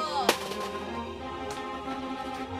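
A single sharp bang from a toy gun firing no real bullets, brief and close, standing out once above a low background hum.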